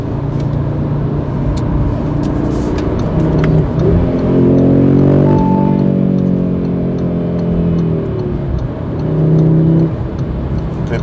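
A car engine revs hard at full throttle, its tone climbing and falling through rising pulls, close and loud with a brief harsher surge near the middle.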